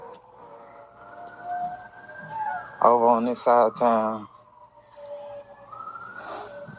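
A rising and falling emergency siren wails in the background in Tallahassee, Florida, while a person talks over it, with a sharper stuttering siren pattern briefly in the middle.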